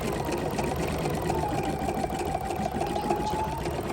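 An embroidery machine quilting in the hoop runs continuously with a fast, steady stitching buzz and a faint whining motor tone, close and unbroken throughout.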